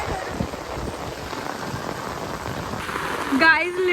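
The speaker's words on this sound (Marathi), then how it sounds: "गाईज एवढा बेकार पाऊस लागतोय ना" Heavy rain pours steadily all around, a dense close hiss of drops hitting surfaces, with a brief voice or tonal sound rising near the end.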